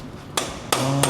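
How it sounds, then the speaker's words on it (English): Hammer strikes drive a star nut into a bicycle fork steerer on a lightweight full-suspension gravel bike: three sharp metallic taps within a second, close and loud, with a faint ring after the later ones. "Star nut installation."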